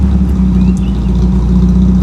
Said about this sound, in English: stop making noise with my car, my man.